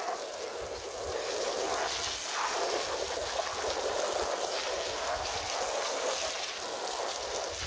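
Steady hiss of water spray during interior cleaning of a car, a continuous close rushing wash that holds evenly throughout.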